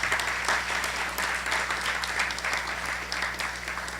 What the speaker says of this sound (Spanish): un fuerte aplauso para también los catedráticos e investigadores